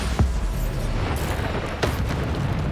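Bombarda spell blasts in Hogwarts Legacy, two short booming bursts about a second and a half apart over a steady rumbling game backdrop.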